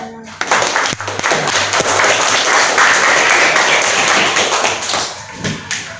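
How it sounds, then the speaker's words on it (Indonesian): A classroom of students applauding a presenting group, with a burst of dense clapping and scattered taps and thuds that swells, holds, then thins out, close and loud, with faint voices mixed in. "Kita beri aplaus"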